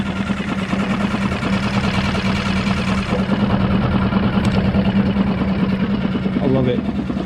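A brand new Suzuki DF6 four-stroke outboard motor idles steadily while warming up, a constant close engine drone with an even low pulse throughout, and talk runs over it.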